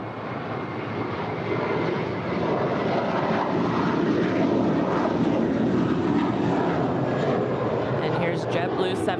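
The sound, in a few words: airliner taking off at LAX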